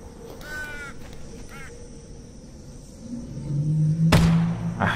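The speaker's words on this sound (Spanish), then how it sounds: "le quería pegar el pájaro, a ver si podía" Bird cawing in the video game Half-Life Alyx, a few harsh calls early on, then a louder, nearer burst toward the end over low rumbling game ambience.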